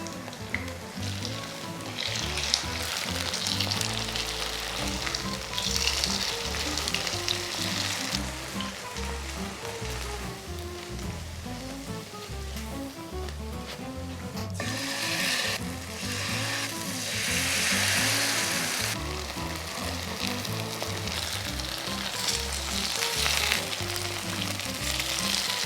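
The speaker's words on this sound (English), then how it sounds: "Add a few tablespoons of oil to the pan and continue cooking" Kimchi pancake frying in oil in a pan, a continuous crackling sizzle with dense popping that swells louder midway and stays steady, no talking.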